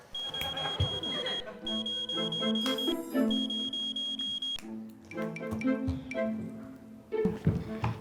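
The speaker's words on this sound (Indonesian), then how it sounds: "Ini alarm Iren buat ngingetin buat olahraga." A phone alarm set as an exercise reminder beeps in repeated high, steady tones over busy background noise in a room, with the beeping stopping and starting several times.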